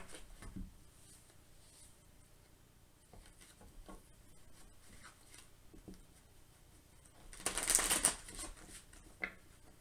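Tarot cards are shuffled by hand in a quiet room, with soft papery rustles and faint flicks, and one louder riffling burst near the end.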